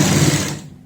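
A sewing machine stitches the collar of a kurti with a coat-style collar, giving a brief close whirring run that fades out within a second, with no talking.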